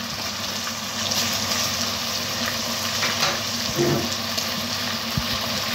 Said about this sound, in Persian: پیازها طلایی شدن و گوشت ها هم تقریبا تفت خوردن. حالا ادویه ها رو بهش اضافه میکنیم.